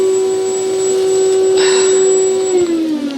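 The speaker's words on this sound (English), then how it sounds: "Vacuum." A vacuum cleaner drones loudly and close by while cleaning out spiders during restoration of an Art Deco sofa, a steady whine that drops in pitch as it winds down at the end.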